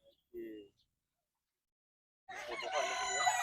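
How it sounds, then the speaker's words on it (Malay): Chickens on a family farm and livestock plot in Kuala Pilah: a short cluck, a long quiet gap, then a loud rooster crow rising and sustained close by. "kita bela ayam"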